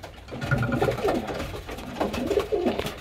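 Pigeons in a crowded breeding loft give repeated deep, throaty coos that overlap and come close, with faint rustling behind them.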